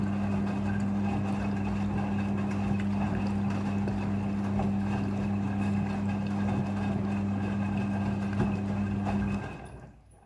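Midea front-loading washing machine filling with water for a rinse cycle, a steady low motor hum with a rushing water hiss, constant for several seconds before cutting off abruptly near the end.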